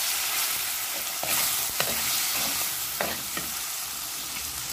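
Chopped ingredients go into a hot frying pan for a Sri Lankan style fish curry, giving a dense, continuous hiss of sizzling oil broken by a few sharp knocks and scrapes of stirring.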